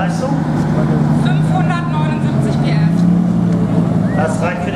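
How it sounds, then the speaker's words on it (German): Audi with a V10 biturbo engine at a car meet, running steadily with a constant engine hum under prominent close speech. "und hier haust ein 10-Zylinder. V10-Motor, Biturbo."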